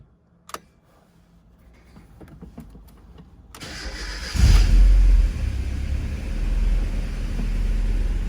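A 1996 Mazda Miata engine cranks and fires up after an oil change and new brake work, starting with a few quiet clicks, then a rising crank before catching into a loud, steady idle close by.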